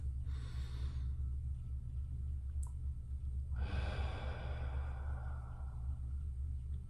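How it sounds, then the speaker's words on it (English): Slow, relaxed breaths drawn deep into the belly during a meditation, one soft inhale early on and a longer, fuller breath a few seconds later. Both sit close over a steady low hum with no talking. "just breathing into the belly"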